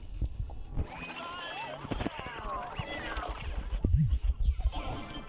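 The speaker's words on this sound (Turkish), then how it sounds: "arkada kedi sesleri geliyor" A cat meows in the background a few times, its calls partly buried under ongoing talk and game sounds.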